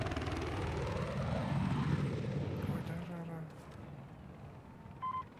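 A helicopter in the video game Battlefield 4 drones with a steady rotor and engine rumble that fades after a few seconds, with a player talking over it.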